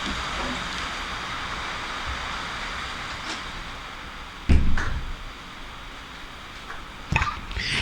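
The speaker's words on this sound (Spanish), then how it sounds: "no sé si se está escuchando el ruido de la lluvia" Rain falls steadily outside as a constant wash of hiss, with a couple of brief nearby knocks and rattles cutting in.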